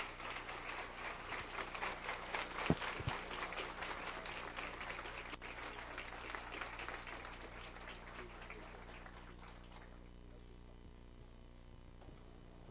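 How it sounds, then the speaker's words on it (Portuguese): Welcoming applause for Jorge Mautner at a philosophy café talk, a fairly faint spread of clapping from a modest audience that thins and fades out toward the end. "Vamos receber com um aplauso de boas-vindas o nosso querido Jorge Maltner"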